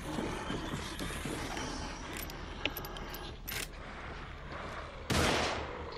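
An enemy fires a gun in The Evil Within horror video game, producing a few sharp shots and metallic clatter over a low ambient drone, ending in a louder blast.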